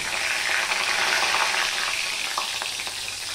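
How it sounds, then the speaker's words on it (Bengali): Bay leaves tempering in hot oil in a pan for a vegetable stew, giving a steady, close sizzle that holds level throughout with faint scraping and crackles, no voices. "দুটো তেজপাতা ফোড়নে দিয়ে দিলাম।"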